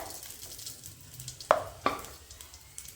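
Cashews and raisins frying in ghee, a soft steady sizzle with two sharp clicks of a spoon against the pan partway through.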